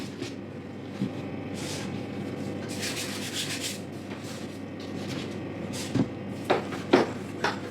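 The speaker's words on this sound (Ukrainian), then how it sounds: "Ось так розкачую" A rolling pin rolls out khachapuri dough on a work surface. Soft, steady rubbing strokes repeat close by, with a few light knocks near the end.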